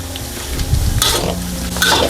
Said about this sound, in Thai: คนและอย่าพักมือยังไงน้ำมันก็ไม่กระเด็นแน่นอนค่ะ